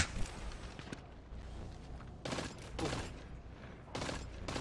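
Several loud gunshot bursts from the video game Destiny, fired at a knight. They arrive in clusters over a steady hum of in-game ambience, with sharp broadband blasts near the start and near the end.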